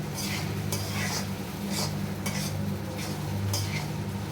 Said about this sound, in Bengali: ভাজা ভাজা কি, এটা হচ্ছে মিশাইতে হবে। মশলাটা যে দিলাম মাত্র, ডিম পেঁয়াজ এগুলো যে দেবো,